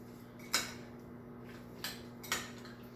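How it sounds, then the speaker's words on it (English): Three sharp clinks of a utensil against a bowl while chopped onions, scallions, herbs and chives are mixed together, spaced irregularly over a quiet hum. "I'm gonna mix this together"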